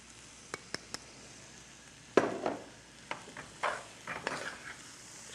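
Green onion stirred in a hot pan, giving a soft sizzle with scattered scrapes and clicks of a utensil at moderate distance, a few sharp taps early on, and a louder burst of stirring partway through.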